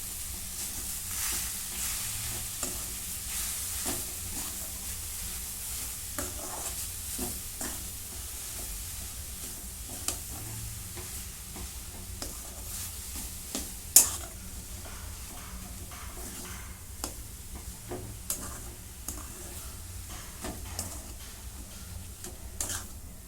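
A jaggery and coconut mixture is stirred in a pan over a low flame, giving soft, continuous scraping and a faint sizzle, with occasional light clicks of the spoon against the pan, close and quiet throughout.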